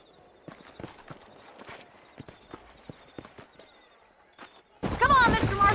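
Horse hooves clip-clop at a steady walking pace in the Red Dead Redemption video game, with a voice breaking in over the last second.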